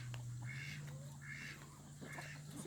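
Several farm ducks quack in repeated short bursts, with chickens nearby, against a steady low hum in a backyard poultry pen.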